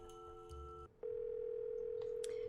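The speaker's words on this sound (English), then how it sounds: "Sounds like she has her phone off the hook." A telephone's off-the-hook tone in a Nancy Drew video game. A brief mixed tone cuts off, then a steady, continuous tone holds at moderate level with faint background sounds and no talk.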